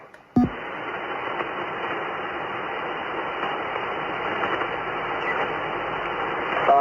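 Continuous band-limited amateur radio hiss and static with muffled signal underneath, steady with DSP off, after a click as the audio switches over.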